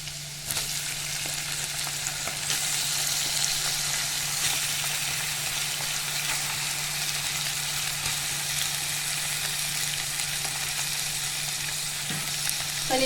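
Chicken liver sizzles and fries in a pan with ginger and garlic, a steady, dense crackling hiss that continues evenly throughout at close range with no talking.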